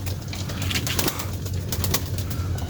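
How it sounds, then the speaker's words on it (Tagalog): Racing pigeons in a loft at feeding time, a dense chorus of low soft coos over a steady rustle of birds moving about, close and continuous with no talking. "magpapakain muna tayo ng mga warrior natin mga kalapatids"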